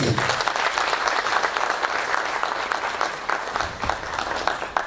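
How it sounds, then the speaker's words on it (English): Sustained audience applause at a tax education seminar, dense steady clapping from a full room that carries on evenly without pause. "Can we continue giving him a round of applause?"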